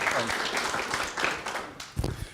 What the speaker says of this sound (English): So I think a round of applause for our panel